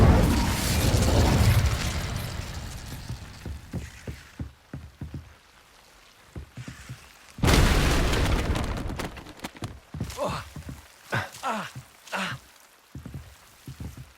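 The Incendio fire spell is cast in Hogwarts Legacy: two loud whooshing bursts of flame, one at the start and one midway, separated by clattering, crackling game effects.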